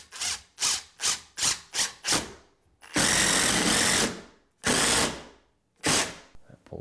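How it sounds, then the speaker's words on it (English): A power drill drives 3-inch screws into a drywall corner: a series of short, close whirring bursts, then several longer sustained runs separated by pauses. "So now I'm going to run some 3-inch screws in."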